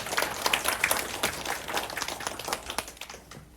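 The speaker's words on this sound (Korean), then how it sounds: "다 함께 김준범 학생의 발표를 박수와 함께 들어보도록 하겠습니다" An audience at a Korean book-report awards ceremony breaks into steady applause, a crisp crowd of hands clapping continuously and then tapering off toward the end.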